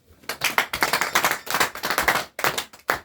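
A convention audience claps and cheers for a newly named lieutenant, dense continuous applause with bursts of whooping swelling and dipping, loud and close throughout.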